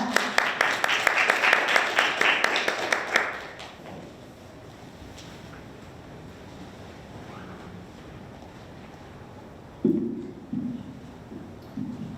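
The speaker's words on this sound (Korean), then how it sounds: "큰 박수로 부탁드립니다." Audience applause at a university innovation forum's student award session, a loud burst of clapping for about three seconds that stops abruptly, followed by near silence with a few faint knocks.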